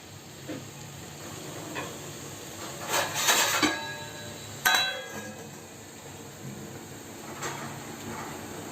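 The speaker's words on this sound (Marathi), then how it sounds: "आता मी झाकण ठेवते आणि चांगलं हे शिजायला देते." A lid set onto a pot of spicy dal cooking on the stove, with a couple of metallic clanks and scrapes over a faint steady hiss of steam, otherwise quiet.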